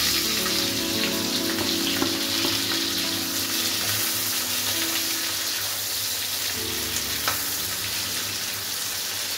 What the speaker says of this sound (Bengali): এবার এর মধ্যে আমি পেঁয়াজ দিয়ে দিই।